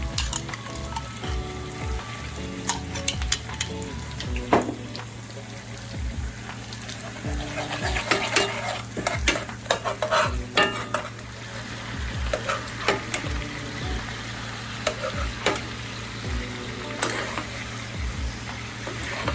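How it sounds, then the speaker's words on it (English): Mango chutney sauce poured into a hot pan with a ribeye steak, setting off loud, continuous frying and sizzling close by, with bursts of spitting and utensil scrapes and no talk. "Right to the pan, we are gonna add our mango chutney sauce."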